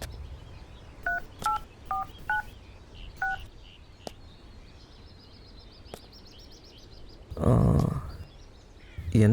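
A short run of telephone keypad tones, five clear paired beeps in quick succession from a nearby phone, followed by quieter clicks and a brief burst of rustling noise.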